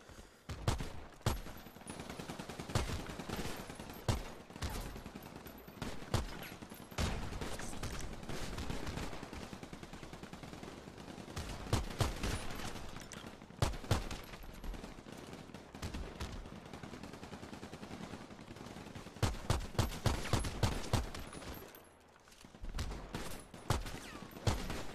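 Gunfire fills a player-versus-player shooting game, with rapid bursts and scattered sharp shots coming in uneven clusters throughout, some dense and fast like automatic fire, loud and up close with little talk.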